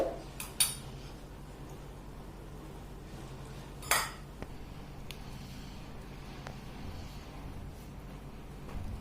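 A tiny utensil scrapes and clinks against miniature cookware while potato and bread crumbs are mixed, giving a few sharp, close metallic taps over long stretches of quiet, soft stirring.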